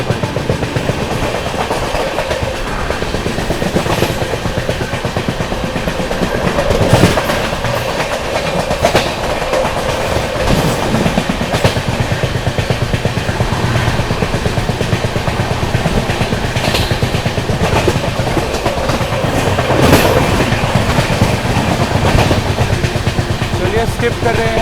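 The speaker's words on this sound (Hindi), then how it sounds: "यहाँ पर अपनी गोरखधाम सुपरफास्ट एक्सप्रेस ने जो है रफ्तार भी बना लिया भाई" Gorakhdham Superfast Express (12556), New Delhi to Gorakhpur, running at speed: a steady loud rumble and rhythmic clickety-clack of wheels over rail joints, continuous throughout with wind noise and no voices.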